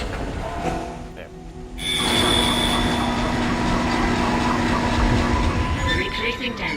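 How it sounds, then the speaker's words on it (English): A tram car in the video game Dead Space rumbles and hums along its track with a steady mechanical drone and faint squeal, loud and continuous after a quieter start. "Replacing damaged tram car."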